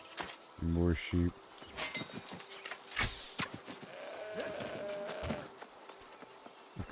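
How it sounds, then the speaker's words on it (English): Sheep bleat in a short rhythmic burst early on in New World: Aeternum, followed by a second brief bleat, then scattered game sounds and clicks; someone talks over parts of it. "More sheep."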